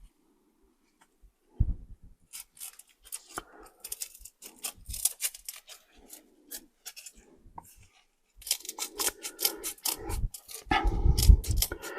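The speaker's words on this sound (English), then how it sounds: "I think I'm going to cut it out and use that strap for something" A strap being cut from a bicycle pedal heel strap, heard as close, intermittent snips and scraping with rustling handling noise that grows busier and louder toward the end, with no talk.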